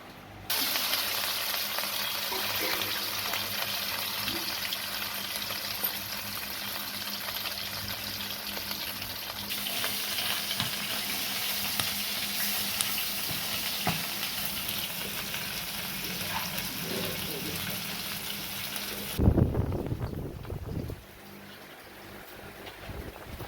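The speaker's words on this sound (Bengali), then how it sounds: "এর মাছটা হালকা ভেজে নেব।" Steady, loud sizzling of fish lightly frying in hot oil in a village kitchen, a dense crackling hiss that continues throughout, with a brief clatter near the end before it quiets.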